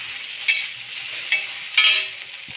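Vegetables sizzle in a kadhai over a low flame, a soft hiss punctuated by three brief surges as they are stirred, close up and without talk.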